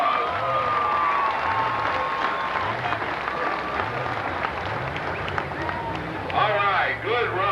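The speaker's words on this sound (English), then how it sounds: "Let's give him a nice round of applause." A crowd at a 1996 truck and tractor pull in Evansville, Indiana applauds and cheers, with clapping spread through the stands, under an announcer talking over a loudspeaker.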